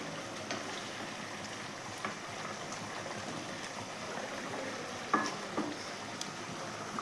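Rui fish kalia curry simmers in a pan on a gas stove, making a soft, continuous bubbling hiss with a few small pops and no talking.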